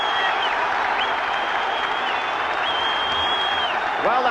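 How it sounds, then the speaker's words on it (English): A football crowd at a 1990/91 Cup Winners' Cup match in Belfast roars and applauds after a goal, a dense, steady wall of cheering with whistles rising over it throughout. "Well, the crowd enjoying that."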